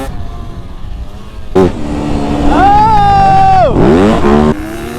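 Dirt bike engines rev loudly and rise and fall in pitch as riders hit jumps, a strong whining engine note climbing then dropping, with a shout over the motor noise.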